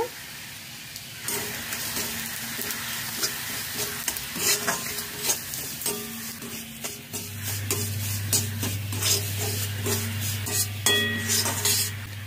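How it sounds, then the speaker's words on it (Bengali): Semolina roasting in ghee in a pan over a medium flame, with a steady soft sizzle and repeated scraping and stirring strokes of a spoon against the metal, close and continuous. "মিডিয়াম ফ্লেমে 2 মিনিট সুজি ভেজে নিয়েছি"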